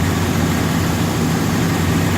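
A 1990 Chevrolet K1500 truck's 5.7L 350 V8 runs at a steady, smooth idle on a new exhaust manifold and gaskets, a low continuous rumble heard up close with no talking.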